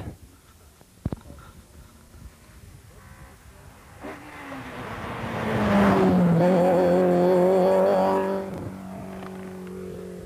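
A rally car, number 8 driven by Davy Evans, approaches and whizzes past close by on a Millstreet stage, its engine rising to a loud revving roar and falling away, with a brief knock heard before it arrives.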